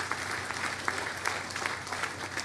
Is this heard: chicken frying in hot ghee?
no